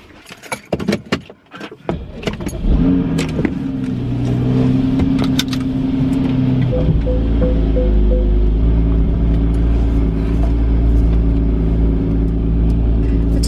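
Keys jangle near the start, then a car with badly worn shocks starts up and pulls away, its engine settling into a close, steady rumble and hum while it drives.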